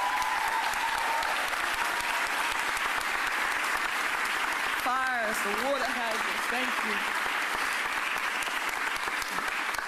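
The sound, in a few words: round of applause at press conference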